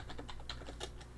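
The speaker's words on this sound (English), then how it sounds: "That's typing there" Rapid typing on a computer keyboard during a Minecraft server session, a steady run of close, crisp key clicks at an even pace, heard alone with no talking.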